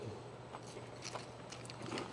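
Someone chews a mouthful of homemade dessert with a crunchy cereal topping, giving soft, irregular crunches and mouth sounds close to the mic with no talking.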